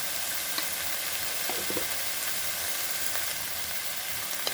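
Chilli and turmeric powder are stirred into a frying dish of kochur loti with dried fish, a steady close sizzle with faint scraping stirs over it.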